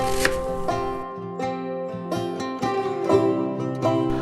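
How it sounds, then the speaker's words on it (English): A knife thinly slices cabbage for sauerkraut with crisp, evenly spaced cuts against a sustained tonal background, close and fairly loud. "First step is going to be to slice the cabbage in half and remove the core, and then thinly slice everything up."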